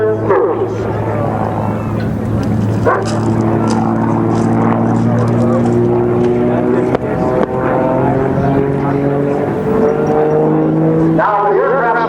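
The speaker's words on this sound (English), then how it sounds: "Bob doing a single engine loop." A twin-propeller Aero Commander performs a single-engine loop at an air show, its steady droning engine tone rising and falling in pitch as it flies through the maneuver, loud and continuous throughout.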